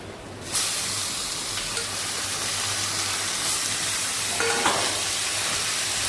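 Lentils (dal) fry in a hot pan with a steady, loud broadband sizzle that starts abruptly and holds throughout, with a brief stir partway through and a low hum beneath.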